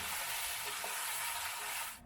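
Onions frying in a pan with vodka just poured in, giving a steady broadband sizzle and stirring hiss that fades out at the very end; no voices.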